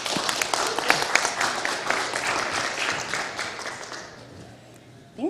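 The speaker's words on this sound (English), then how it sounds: "give a big round of applause for Andie" An audience at a talk applauds for the presenter, a broad wash of clapping that stays steady and then thins out before a brief sound at the very end.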